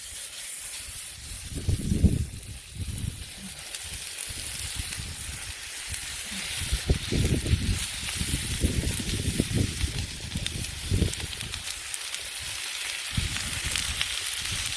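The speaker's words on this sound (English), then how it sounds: "So we'll let that sizzle away for a wee bit before we put the vegetables in." Chicken breast sizzles on a campfire grill at a Scottish wild camp, giving a steady close hiss with crackling surges and no talk.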